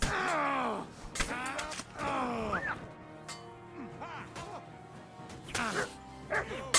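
Barking from a dog companion during a medieval sword fight in the video game Kingdom Come: Deliverance II. A few sharp barks and whimpers sound amid grunts, clashing and voiced combat shouts.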